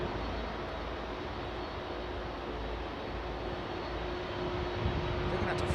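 An airliner arriving on runway 27 right at London Heathrow, a broad, continuous engine roar heard from outdoors, steady and fairly loud, swelling slightly toward the end.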